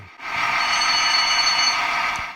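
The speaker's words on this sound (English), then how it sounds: "An AWS bell." A loud, continuous electric AWS warning bell from a Bachmann Windhoff MPV model train rings steadily for about two seconds, close and alone, then cuts off.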